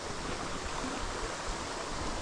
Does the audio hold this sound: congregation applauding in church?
no